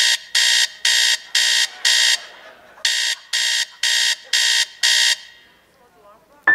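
An alarm clock blares in loud repeated bursts of harsh electronic beeping, five pulses, a short pause, then five more, before cutting off abruptly.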